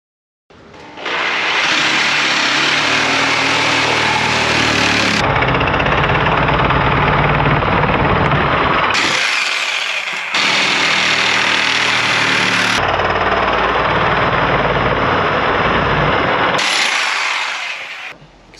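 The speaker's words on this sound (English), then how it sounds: "Let's cut all the PVC to the lengths that we need." A power saw cuts PVC pipe to length for a bicycle camper frame, running loud and steady in two long passes with brief pauses and a shift in pitch between cuts, no talking.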